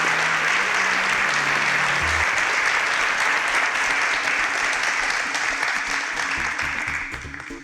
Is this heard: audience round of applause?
yes